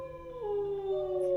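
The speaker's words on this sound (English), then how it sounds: "The howling is getting louder in this area." A single long, sustained howl that bends slightly in pitch, canine and mournful, rising out of a quiet woodland backdrop, moderately loud and alone.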